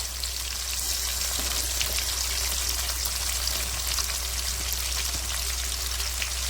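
Onions sizzle steadily in a hot pan during cooking of Pallipalayam chicken, a continuous close frying hiss with no talking.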